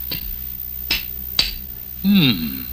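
Three light, bright clinks of a cartoon hammer and chisel tapping on a diamond, evenly spaced, followed by a short rising-and-falling squeaky tone.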